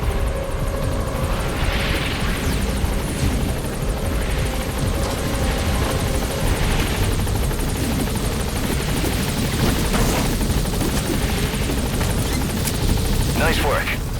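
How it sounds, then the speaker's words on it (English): A military helicopter sets down in Metal Gear Solid V: a steady, loud rotor thrum and engine roar fills the scene without a break, with voices over it. "the chopper's touching down"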